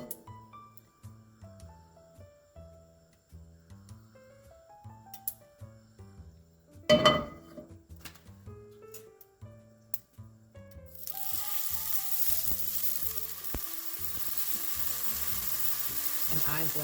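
Turkey bacon frying in olive oil in a heated skillet starts under quiet background music with clinks, then swells into a loud, dense, continuous sizzle for the second half.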